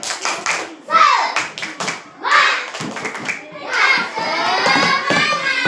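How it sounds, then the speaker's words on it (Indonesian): Schoolchildren perform a rhythmic spirit clap in class, with sharp patterned hand claps alternating with loud shouted chanting and ending in a burst of excited voices. "Tepuk semangat."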